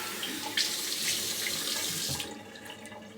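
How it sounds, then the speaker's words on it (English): Tap water gushes steadily into a sink for a rinse during a wet shave, a close continuous splash that cuts off abruptly near the end, leaving faint drips. "Let's do a rinse."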